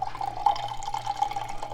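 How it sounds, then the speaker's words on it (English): Pineapple juice pours from a can into a container in a kitchen, a close, bubbling, gurgling stream that runs continuously for a couple of seconds with no talking. "I'm gonna pour the juice in here."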